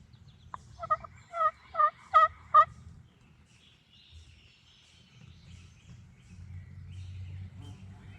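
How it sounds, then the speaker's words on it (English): A wild turkey gobbles during a Pennsylvania spring hunt, a rapid burst of five warbling notes, fairly close and clear, followed by quiet rustling and low background rumble. "That's that soft gobble."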